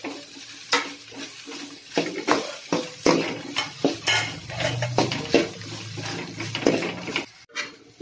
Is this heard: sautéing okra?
yes